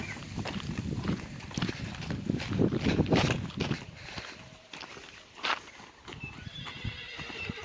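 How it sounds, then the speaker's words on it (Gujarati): A horse whinnies and its hooves clip-clop on the ground nearby. Bursts of neighing and irregular hoof strikes rise and fade with a low background rumble. "ચોખ્ખો ઘોડો લાગે હો."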